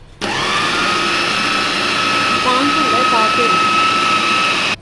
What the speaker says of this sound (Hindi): इसको थोड़ी देर 1 मिनट हमने और चॉपर चलाना है ताकि अच्छी तरह मिक्स हो जाए